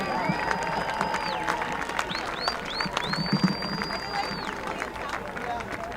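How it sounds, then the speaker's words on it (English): Crowd applauding seniors and their parents at a Catholic high school sports event in a gym, steady clapping under a loud PA voice and sports whistles, with crowd noise around it. "Let's give a big round of applause to these fine seniors and their parents."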